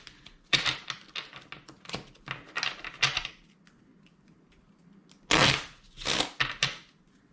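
Tarot cards shuffled by hand in quick riffling bursts and clacks, close and fairly loud, with a pause mid-clip before a last pair of longer riffles; no talk.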